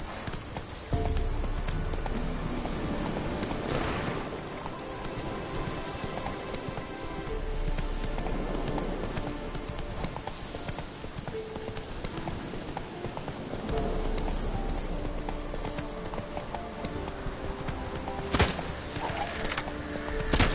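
Roach the horse gallops through rain in The Witcher 3, hooves clip-clopping steadily under rainfall and game ambience, with no voices.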